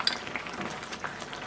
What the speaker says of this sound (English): So give it a really good stir.